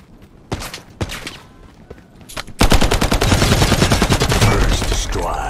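In the video game Lost Light, a few isolated gunshots ring out, then loud, rapid automatic fire bursts continuously at close range.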